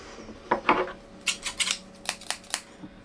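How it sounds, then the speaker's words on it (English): Scissors snip flowers several times in an uneven rhythm, crisp little cuts close up, with quiet pauses between them. "we're gonna get our scissors and we're gonna cut it into pieces and put it in our jars"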